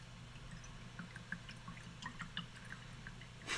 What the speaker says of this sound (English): full 15 seconds of nothing but brush cleaning water noises